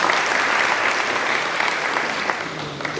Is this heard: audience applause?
yes